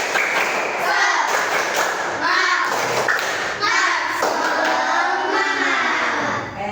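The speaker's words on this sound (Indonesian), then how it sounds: "Ya, coba tepuk semangat." A fifth-grade class claps out a rhythmic spirit cheer in a classroom, sharp unison claps in short patterned bursts mixed with children's voices chanting along.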